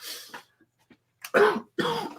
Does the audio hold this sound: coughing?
yes